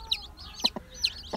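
A young Ameraucana chick peeps softly in a home coop, giving a few short, high, separate cheeps close by with quiet pauses between them.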